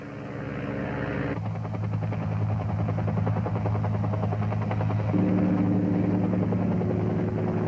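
A military transport helicopter flies out to a pickup, its rotor throbbing steadily and loud with a constant engine drone that thickens partway through, alone with no talk.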